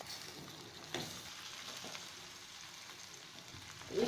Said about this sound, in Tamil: இது வந்து நல்லா கொதித்து நல்லா வேகணும்